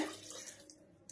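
Running tap water rinses out a mixer grinder jar in a home kitchen during kalakand preparation, a steady broadband splash that fades and trails off, close and moderately quiet.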